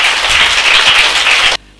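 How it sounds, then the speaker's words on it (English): A group of primary-school children in a classroom spelling bee claps for a contestant, a dense burst of applause lasting just over a second and a half before stopping sharply. "Can you clap for Nadir?"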